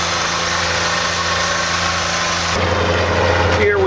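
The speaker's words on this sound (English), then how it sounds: "it is running. All the oil has been all over the, spreading throughout the engine. RPMs are going higher" A carbureted 1986 Ford F-250 pickup engine runs steadily at idle, a loud continuous rumble whose tone shifts partway through as the revs rise while warming up.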